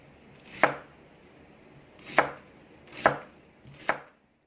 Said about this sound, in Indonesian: Ini kita potong, lalu kita cincang.